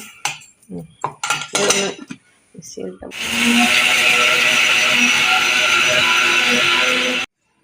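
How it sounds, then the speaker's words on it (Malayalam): Electric kitchen mixer grinding cardamom and sugar into powder, a steady loud whirring buzz running for a few seconds after some clattering of the jar and lid being set in place, then cutting off abruptly. "കുറച്ച് ഏലക്കായ ഇട്ട് കുറച്ച് പഞ്ചസാരയും കൂടെ ഇട്ട് ഒന്ന് പൊടിച്ചെടുക്കട്ടോ"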